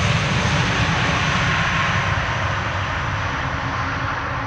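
Airliner landing at Amsterdam Schiphol with thrust reversers, a loud, broad jet roar heard from outside that holds steady and slowly fades.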